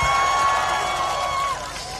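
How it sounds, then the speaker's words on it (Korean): Crowd at an outdoor Korean political campaign rally along the Gyeongui Line Forest Park in Mapo, a steady dense wash of applause and cheering held loud for about a second and a half before easing off. "다시 한번 큰 박수 부탁드립니다"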